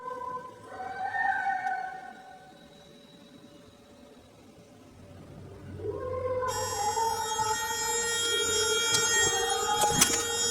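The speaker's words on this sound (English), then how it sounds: "you can still faintly hear the wailing sound in the elevator" A drawn-out, wavering wail rising and falling like a moan, fairly faint in an elevator against a steady mechanical hum that grows louder toward the end.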